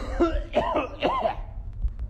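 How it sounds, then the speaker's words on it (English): A man coughs a few times in quick bursts, close to the microphone, while claiming to have coronavirus; the coughs fade into quiet background noise. "coughing on a police officer while claiming to have coronavirus"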